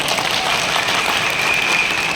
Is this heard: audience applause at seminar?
yes